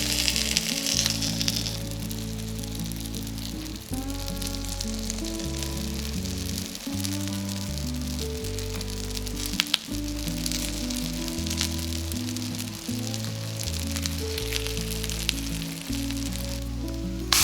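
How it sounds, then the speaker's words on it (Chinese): Scallion pancake sizzling steadily in an oiled frying pan, a continuous close crackling hiss with occasional pops, while soft background music plays throughout. "每面煎3到5分钟。"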